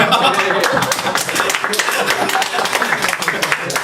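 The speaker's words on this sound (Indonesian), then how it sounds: "Mari beri tepuk tangan yang meriah." A crowd claps in a dense, lively burst of applause that continues throughout, with a voice speaking over it.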